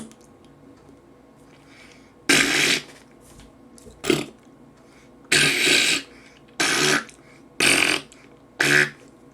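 A voice imitates farts with the mouth, making about six short, wet, sputtering bursts separated by brief quiet gaps.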